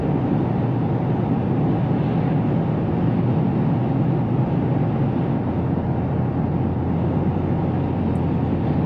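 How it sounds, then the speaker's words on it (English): Steady broadband wind rush and road roar inside a 2025 GMC Canyon AT4X AEV crew cab 4WD pickup while driving, a constant, even drone with no talking. "So yeah, there's a little bit of wind noise."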